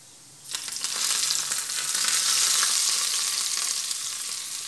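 A sudden, loud sizzle as a spice tempering for kadhi pakora hits hot oil, settling into a continuous crackling fry close by.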